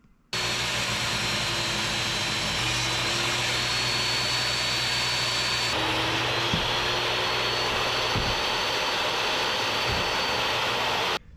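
Power saw cutting a wooden sill for a wooden boat, a steady loud whine running nearly eleven seconds with a slight pitch shift midway and a few brief knocks near the end, no talk.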